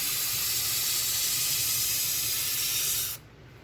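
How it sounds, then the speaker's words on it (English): An Iwata airbrush sprays paint onto 1/35 scale model tank tracks, a steady close airy hiss that stops abruptly near the end, leaving quiet room tone. "I'm using my Iwata airbrush."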